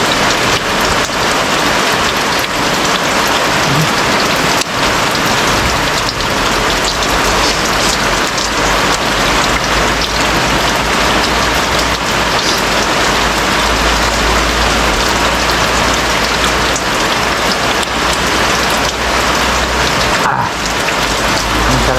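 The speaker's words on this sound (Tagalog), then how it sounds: "Okay na pag-ulan lang yan." Heavy, steady nighttime rain pouring down on surfaces in the Philippines, a dense continuous hiss with a low rumble underneath, no voices.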